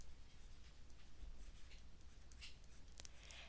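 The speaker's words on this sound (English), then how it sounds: "I'm going to write the first one with all the big numbers here" A pen writing out an equation on paper, soft continuous scratching strokes with a few sharper scrapes, faint and close.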